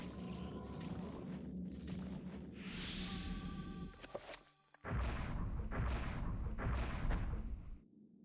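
Gunfire in the horror video game Eternal Darkness, a run of heavy booming shots with rumbling echoes, a brief drop to near silence, then another loud burst of repeated shots before fading out.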